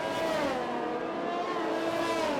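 Race car in a racing game at Monza roars at full power with DRS open, a steady loud engine note with rising harmonics chasing through the straight toward a chicane.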